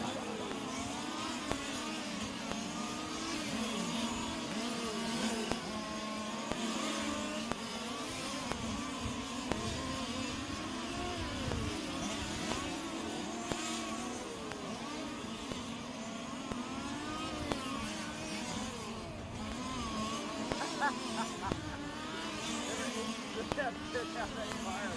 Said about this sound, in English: Mikkel Pearson still hanging on to that third spot in car number 7.